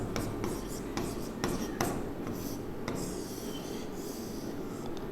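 Chalk or marker scrapes and taps across a board during a class lecture, giving scratchy strokes with several sharp knocks over a steady room hum and no clear talk.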